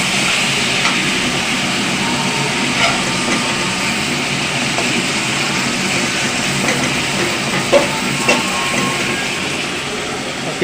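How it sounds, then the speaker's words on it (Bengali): Onion and chili fry in a pan, a steady broad sizzle and hiss with a few faint clicks from stirring, close and continuous. "পেঁয়াজ মরিচ ভেজে নিচ্ছি।"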